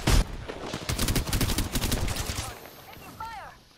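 Rapid automatic gunfire in the shooter game Apex Legends, a dense close burst of shots lasting a couple of seconds before fading, with a voice speaking briefly at the end.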